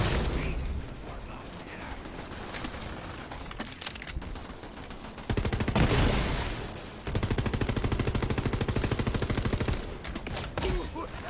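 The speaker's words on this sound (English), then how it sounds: "That is a COV Assault Rifle." Rapid mechanical automatic fire from a COV assault rifle in Borderlands 3, loud and dense, coming in long sustained bursts with ratcheting clatter and a brief pause between them.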